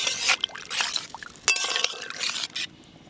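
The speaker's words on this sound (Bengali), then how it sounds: "এবার জল দেব" Water pours into a pan of spiced tomato hilsa curry with splashy, liquid bursts and a few clinks against the vessel, close and fairly loud, with no talking.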